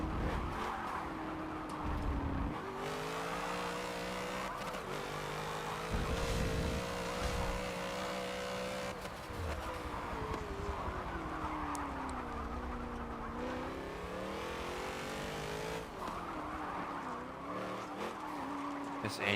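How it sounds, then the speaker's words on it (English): A race car engine in Forza 7 roars steadily through an open-lobby R Class race, its pitch rising and falling through gear changes, while tires skid and squeal in places and a voice talks over it now and then. "This engine sounds absolutely awesome."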